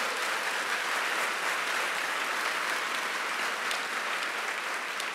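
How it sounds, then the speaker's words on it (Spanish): A church congregation gives a loud, sustained round of applause during a sermon, dense clapping filling the room evenly from start to finish. "Dele fuerte ese aplauso al Señor."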